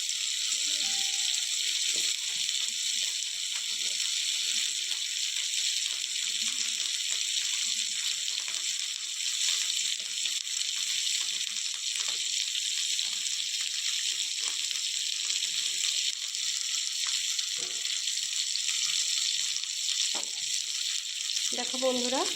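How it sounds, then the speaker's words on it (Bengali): Vegetables sizzle in hot oil in a wok while egg and vegetable chow mein is cooked, a steady bright hiss running throughout with occasional scrapes and clinks of stirring. "কড়াইতে আবার তেল দিয়ে দিয়েছি। এবার একে একে সবজিগুলো এর মধ্যে দিয়ে দেব।"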